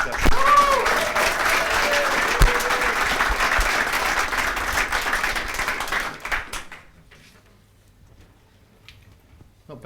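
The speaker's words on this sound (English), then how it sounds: "can you please give him another round of applause" An audience at a rent-to-rent property mastermind event claps for a presenter. The applause is steady and fairly loud for about six seconds, then thins to scattered claps and near quiet.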